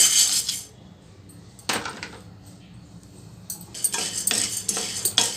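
Chana dal is stirred in a hot, dry pan for a chutney powder. Several short bursts of gritty scraping and rattling come close up, separated by quieter gaps.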